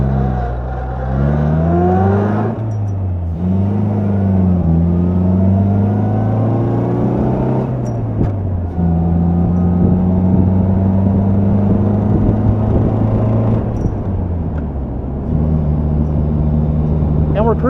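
A supercharged 1955 MG TF 1500 engine revs while driving, its pitch climbing and dropping through several gear changes, with steady wind noise in the background.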